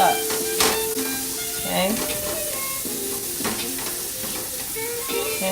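Garlic and vegetables sizzle in a frying pan for shrimp fried rice, with steady frying hiss and intermittent scraping of stirring throughout, while a voice speaks briefly.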